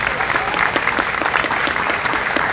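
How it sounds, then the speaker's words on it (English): Loud, close crowd applause at the York State Fair ribbon cutting, honoring the outgoing fair queen, a thick unbroken patter of many hands clapping throughout. "give her a huge round of applause"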